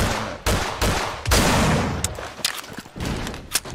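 Gunfire in a roleplay video game cracks out in several loud, sharp bursts and rapid volleys, close and harsh, with short gaps between shots.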